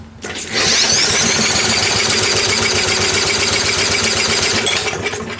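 Older Briggs & Stratton 3.5–4.5 hp small engine being spun over, a loud steady rapid churning and whirring that runs for about four seconds, then cuts off, with no talking.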